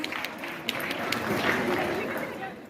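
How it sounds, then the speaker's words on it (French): Applause from an audience at a Japan manga convention stage show in La Rochelle: a dense, steady roar of clapping with crowd noise, swelling slightly midway, with voices over it. "Et un tonnerre d'applaudissements pour Naraku et Guillaume Tikov."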